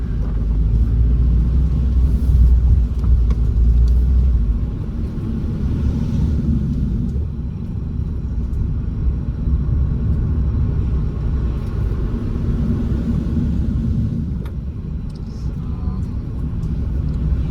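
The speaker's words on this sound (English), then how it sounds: "Drive a little bit and brake slowly and get some heat into them." A Suzuki Swift Sport 1.6 drives slowly while its brake pads are bedded in, giving a steady low road and engine rumble from inside the cabin that holds fairly constant throughout, with no distinct squeal standing out.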